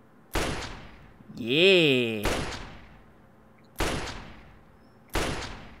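Sharp gunshots at a firing range in the game Fallout 3, four loud single reports spaced a second or more apart with echoing tails, plus a brief shouted voice between the first two shots.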